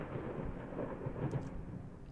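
Thunder rumbles low and fairly faint during a storm in the video game Layers of Fear, a continuous deep roll with no talking.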